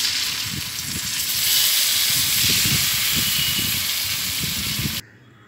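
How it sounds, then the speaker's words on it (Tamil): Curd is poured into hot oil tempered with onion, curry leaves and green chilies, giving a close, steady sizzle and hiss with faint bubbling crackles that cuts off abruptly. "இப்போ தயிர் தாளிக்கிறது எப்படின்னு பார்க்கலாம்."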